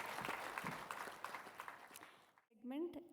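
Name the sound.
audience applause for the speakers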